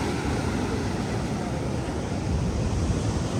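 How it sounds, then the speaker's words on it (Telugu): Waves break continuously against the shore below the cliffs at Varkala Cliff Beach in Kerala, where the water runs deep close to land. The surf makes a steady, loud, broadband roar with no talking. "కిందకి వచ్చి చూస్తే అలలు, అవి సౌండ్ చాలా ఇదిగా అనిపిస్తుంది"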